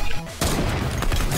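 A gunshot lands a headshot in the Fortnite video game: a short tone, then one loud, sharp crack with a reverberant tail that holds through the rest of the moment.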